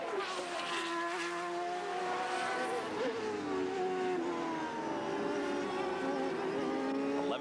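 Open-wheel race cars in a PPG CART World Series race accelerate out of a corner, several engine notes climbing and overlapping at a moderate distance, with no voices.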